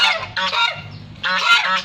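Goose on a farm honking in two loud, close bursts of repeated nasal calls separated by a short pause, with no talk.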